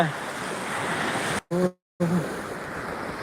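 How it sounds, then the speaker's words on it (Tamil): Rough sea waves surge at the shore in a loud, continuous roar, broken by two brief dropouts. "கடல் வந்து சரியான சீற்றம் ஆயிடுச்சு கடல் ஓட்ட ஆயிடுச்சு இந்தா பாருங்கள் கடல் வெள்ளம்"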